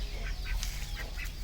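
Ducks at a farmhouse give a run of short, repeated quacks at a moderate distance over a steady low background hum, with no voices.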